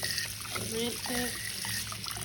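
A canning jar is rinsed under a running tap, a steady splash and trickle of water close by, with voices talking over it.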